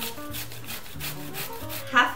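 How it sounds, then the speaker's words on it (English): Fresh zucchini rubbed against a box grater into a bowl, a run of quick rhythmic rasping strokes, close and moderately loud, with no talking. "I'm just going to grate them right into the bowl here."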